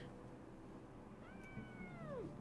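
A cat gives a single clear meow that rises and then falls, fairly quiet against a steady background hum, with no talking.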